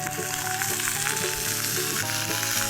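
Hokkaido scallops sear in a hot pan, giving a dense, even sizzle that stays loud and unbroken throughout with no talk over it.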